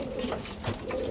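A racing pigeon coos close by in soft, repeated throaty murmurs over a steady background hum.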